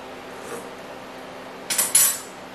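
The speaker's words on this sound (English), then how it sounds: "Give me a second here, let's stir it up." A spoon stirs Anglo-Indian pepper water in a pot, giving a few quick metallic clinks and scrapes near the end after a quiet stretch.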